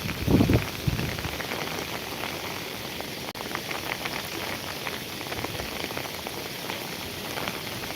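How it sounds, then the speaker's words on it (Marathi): Heavy monsoon rain pours at Koyna in the Satara ghats, a dense unbroken hiss of drops on surfaces with a brief louder patter at the start, steady and close with no one speaking. "आता खरंच हा मुसळधार पाऊस चालू झाला आहे"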